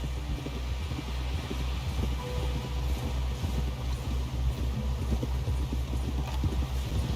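Horse hooves clip-clopping in the video game Red Dead Redemption 2: a steady, close rhythm of hoofbeats over a low rumbling bed of ambient noise, continuous throughout with no talk.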